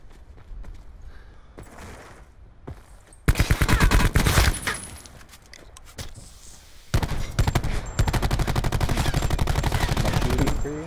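Bursts of rapid automatic gunfire in Call of Duty: Black Ops 4, two long loud volleys separated by quieter stretches with scattered shots and softer movement sounds.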